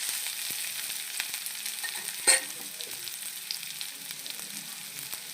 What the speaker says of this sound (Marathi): आता आपण याच्यामध्ये घालू शेंगदाणे, म्हणजे ते पण फ्राय होऊन जाते.